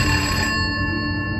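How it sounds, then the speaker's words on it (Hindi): A landline telephone rings inside an office cabin, a steady electronic ring tone with bright tonal harmonics sounding continuously and fairly loud, with no voices present. "तभी केबिन का लैंड फोन बजा"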